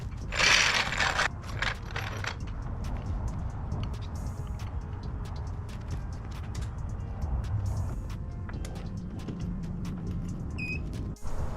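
Mechanical ratcheting and gear clicks from a car jack lifting one side of a C7 Audi S6, a steady close mechanism with sharp bursts near the start and scattered metallic ticks throughout.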